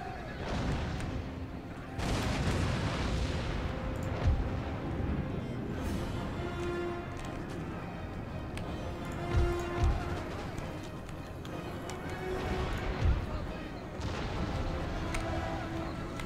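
Battle sounds from the video game Empire: Total War, with a steady roar of artillery and musket fire, scattered heavier booms and continuous dense background noise throughout.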